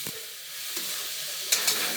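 Spicy sweet sauce being stirred into a Maggi-style snack in a hot pan gives a soft continuous sizzle with a few short scraping clicks of the spoon near the end, with no talking.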